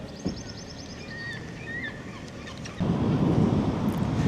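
Wind gusts across an open coastline on a bright, clear day, a steady broadband rush buffeting the microphone that grows noticeably louder partway through, with faint high bird calls above it early on.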